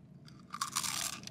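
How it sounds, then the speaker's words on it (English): Flamin' Puffs chips crunch loudly and close up in a chewing mouth, a quick run of crisp bursts after a quiet start, with no talking. "They all have crunch. That's what chips do."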